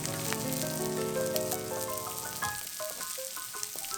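A cabbage and tuna pancake made without flour sizzles steadily in a hot pan, a close, dense crackle of frying oil with small pops throughout and no talking.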